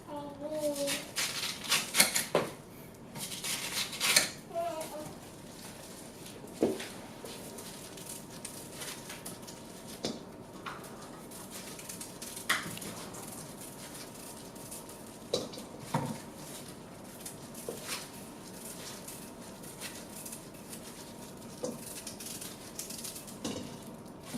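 Slices of yam washed in a bowl, with clattering of pots and utensils, splashing and handling noises in irregular bursts, louder early on, while a person talks now and then.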